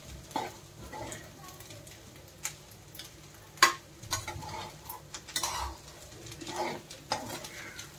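A spoon stirs and mixes kurma rice with peas and corn in a pan, soft scraping and occasional light metal clinks at a quiet, irregular pace.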